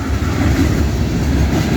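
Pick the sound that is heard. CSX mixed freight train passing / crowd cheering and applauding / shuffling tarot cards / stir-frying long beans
CSX mixed freight train passing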